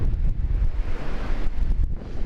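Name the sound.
ocean waves with wind at a beach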